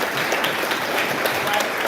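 Steady applause from an audience at a 2024 American Legion Boys Nation oath of office ceremony, a continuous even patter of many hands clapping at moderate volume throughout.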